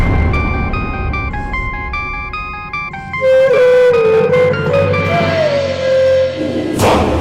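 A mobile phone rings with an electronic melodic ringtone: a few seconds of stepped, jingle-like notes, then gliding tones over background rumble and a few thumps.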